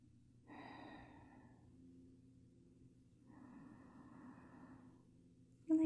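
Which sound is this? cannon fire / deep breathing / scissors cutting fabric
deep breathing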